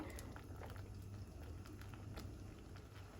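Spinach leaves and green chillies boil in water in an uncovered pot, a soft continuous bubbling and patter at low volume with faint crackles.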